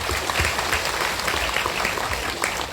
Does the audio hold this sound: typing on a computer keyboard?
no